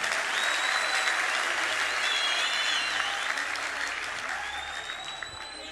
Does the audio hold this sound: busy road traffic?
no